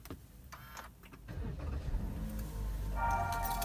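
A 2022 Toyota Avanza Veloz Q 1.5 automatic is started up, with a brief crank building into a steady idle rumble that fills the rest of the short stretch, close and moderately loud with no talk.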